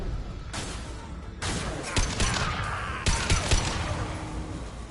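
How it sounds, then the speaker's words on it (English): Impact shot gunfire in the video game Mass Effect 2, with a burst of loud, sharp blasts followed by several separate heavy shots and crashing impacts, close and with no talk over them. "Firing an impact shot."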